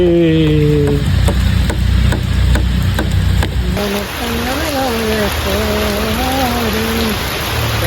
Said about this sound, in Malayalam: മഴ നല്ല പെയില് തുടങ്ങി